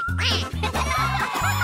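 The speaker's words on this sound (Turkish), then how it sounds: "duck." Cartoon-style duck quacking, five or six quick nasal quacks in a row, loud and close, alone without talk.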